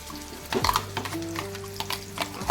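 Ground masala paste for a fresh cashew curry hits hot oil in a pan, setting off a sudden close sizzle with spattering pops and a few stirring clinks.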